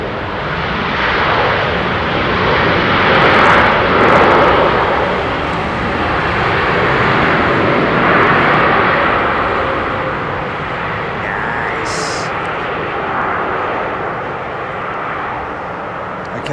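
Jet airliner at London Heathrow, a loud steady engine roar that swells and eases slightly across the whole stretch, with no voices.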